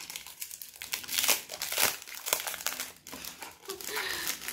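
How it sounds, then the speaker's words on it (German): Christmas parcel packaging is torn open by hand with no scissors, giving close, loud crinkling and ripping in irregular bursts throughout. "Muss ich tatsächlich abreißen, weil und so ich jetzt auch keine Schere hier habe."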